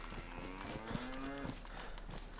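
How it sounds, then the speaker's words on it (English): A cow in the DayZ video game lets out one drawn-out, moderately loud moo over a constant background of game ambience. "I hear you, Mr. Cow."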